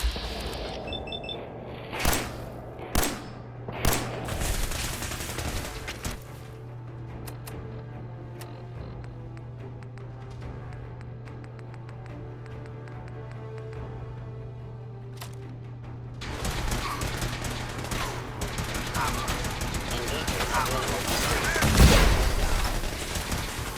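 Gunfire in the game Fallout 4 during a fight in a control room at Castle Mirelauk: a burst of loud cracking shots at the start, a long quieter stretch, then dense rapid firing building to the end.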